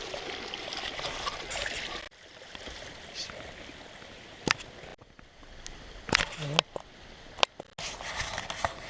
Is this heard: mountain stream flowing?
yes